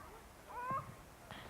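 A cat meows once, a short rising cry near the middle, with a fainter second call at the end, heard outdoors in the snow over quiet background noise.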